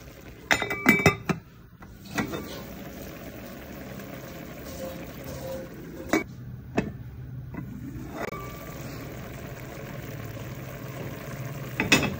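A lid goes onto a cooking pot of papaitan stew. Sharp metallic clinks and clatters come in scattered bursts, with a low simmering murmur between them.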